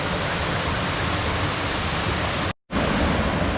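A waterfall on Koh Chang rushes loudly and steadily up close, a dense roar of falling water broken by one brief total dropout near the end before it resumes.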